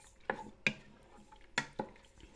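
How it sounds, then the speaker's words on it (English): A few sharp scrapes and clinks of a spoon stirring tomato puree, vinegar and other salsa ingredients in a pot, four distinct strokes, close and fairly quiet with no talking. "Then what I do, I give it a nice stir."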